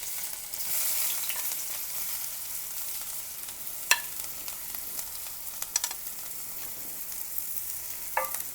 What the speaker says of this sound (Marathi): तर आपण त्यामध्ये हा बारीक चिरलेला कांदा टाकून घेऊयात.